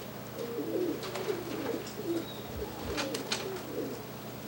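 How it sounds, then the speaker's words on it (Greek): Golden Donek pigeons coo softly and repeatedly in a loft, low rolling calls under a steady background hum with a few faint chirps. "αυτά είναι τα περιστέρια,"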